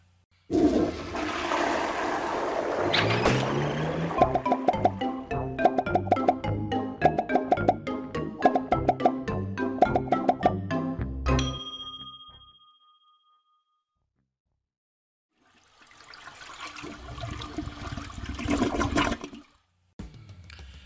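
Toilet flushing again and again: a loud, continuous rushing gurgle of water for about twelve seconds, then silence, then another flush roaring briefly before cutting off, with no talking.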